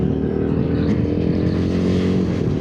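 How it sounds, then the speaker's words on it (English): Royal Enfield Himalayan motorcycle engine running steadily during clutchless upshifts, a loud, continuous close-up drone with harmonic hum and no clear breaks between gears. "Let's try clutchless upshifts and downshifts."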